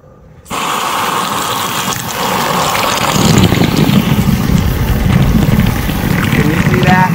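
Water pours onto recycled-plastic geotextile fabric and drains straight through it outdoors, a sudden loud steady splash and rush that begins abruptly and keeps going, with faint voices in the background.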